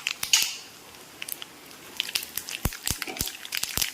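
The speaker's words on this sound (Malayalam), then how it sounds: "അപ്പോൾ എണ്ണ ചൂടായി ഇതിലേക്ക് നമുക്ക് കടുക് ഇട്ട് കൊടുക്കാം." Mustard seeds in hot coconut oil, crackling and spluttering as scattered sharp pops and crinkles that grow busier toward the end, heard alone at a moderate level.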